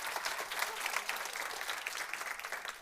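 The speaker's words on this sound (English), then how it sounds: "So give them a huge round of applause" Audience applause at the Nordic Female Investor Meetup 2021, a steady dense wash of clapping from a room full of people, continuous and fairly even throughout.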